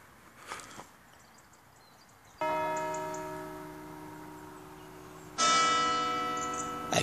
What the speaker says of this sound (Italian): ha appena rintoccato la campana minore, adesso stanno battendo le ore 6 con la campana maggiore